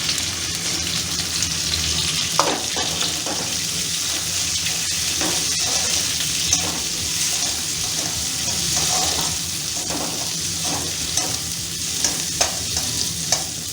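Large-cut onions sizzle in a pan with garlic and chili for Kung Pao chicken. The frying stays steady and close throughout, punctuated by intermittent clicks and scrapes of stirring.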